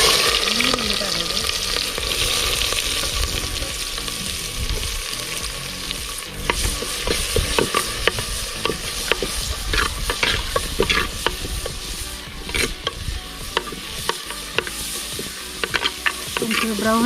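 Onions fry in oil in a pan for Mangalore-style kori rotti, with a continuous sizzle while a spoon repeatedly scrapes and clatters against the pan, stirring in irregular bursts; no talk.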